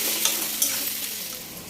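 Sliced onions fry in a pan with a continuous close hiss and sizzle, broken by a couple of light stirring clicks, and no speech.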